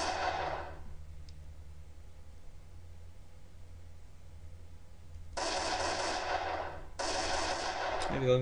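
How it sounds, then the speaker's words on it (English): A gun fires in a Unity 3D first-person shooter game. A short burst opens, then after a quiet stretch come two longer bursts of rapid automatic fire, loud and close, with a low hum underneath. "So there's a gun in action as well."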